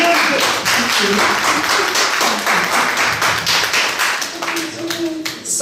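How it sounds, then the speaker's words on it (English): An audience claps for a veteran performer during an interview, with a brisk, dense round of applause that stays steady and close before easing off, while voices murmur underneath. "Give her a round of applause"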